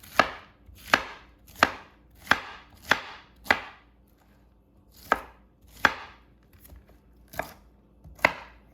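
A knife rough-chops cauliflower on a board in about eleven sharp, evenly spaced thunks with a short pause midway, close and clear with no talking.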